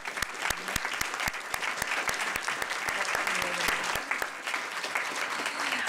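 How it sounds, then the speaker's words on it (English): Audience applause at a regional council meeting, steady dense clapping throughout with a few sharp louder claps standing out near the listener, some faint voices mixed in. "they deserve a big round of applause from the region for their leadership"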